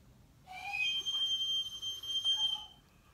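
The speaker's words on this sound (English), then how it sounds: "Hey, enough with the whistles." A single shrill whistle is blown for about two seconds, close and fairly loud, with a wavering pitch before it cuts off into quiet.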